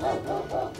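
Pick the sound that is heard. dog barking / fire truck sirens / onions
dog barking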